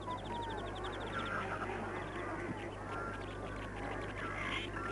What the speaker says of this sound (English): These are freckled duck.